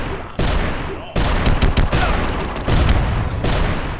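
Machine Mike, a boss in the video game UnMetal, unleashes loud bursts of gunfire: sharp repeated shots and booming impacts in clustered volleys, with a brief lull near the start before the barrage resumes.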